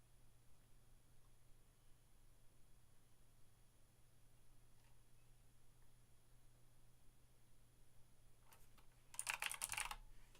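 Quiet typing on a computer keyboard at a writing desk, soft, steady keystrokes barely above room hiss, ending in a brief louder clatter.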